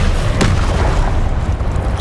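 A single whooshing burst of the Incendio fire spell in Hogwarts Legacy, a sudden loud blast with a brief crackling flare that fades into a low rumbling background.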